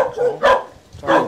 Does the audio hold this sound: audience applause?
no